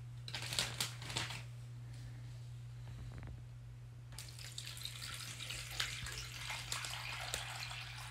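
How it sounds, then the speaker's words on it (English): Water runs and splashes steadily into a plastic Ziploc bag with crinkling and rustling on top and a low steady hum underneath. "take your Ziploc bag and fill it up with water"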